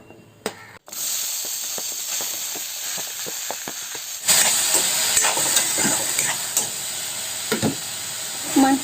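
Cucumber pieces hit hot oil seasoned with panch phoron, a sharp clatter followed by a steady sizzling hiss that flares louder midway and keeps crackling close by.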